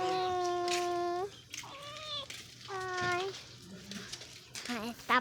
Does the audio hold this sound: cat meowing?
yes